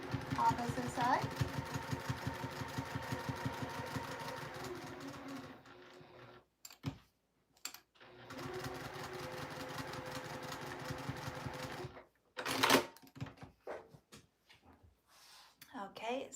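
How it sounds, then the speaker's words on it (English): A sewing machine stitches around the perimeter of a tea-bag-shaped fabric piece, a bookworm gift project, running in two long rapid mechanical bursts separated by a pause, then a brief clatter and quieter handling. "now I've stitched all the way around the perimeter of that"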